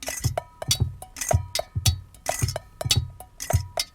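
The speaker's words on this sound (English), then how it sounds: "all the sounds you hear now are being made with a 1-quart pot" A 1-quart kitchen pot is struck as a percussion instrument, giving a steady rhythmic pattern of sharp metallic clanks and ringing hits, close and clear with no talking.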